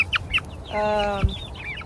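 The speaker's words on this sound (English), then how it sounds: "Chickens everywhere." Chickens on a farm cluck and murmur close by in their coop, with short bursts of clucking and one drawn-out, harmonic squawk in the middle, all fairly loud against a busy barnyard background.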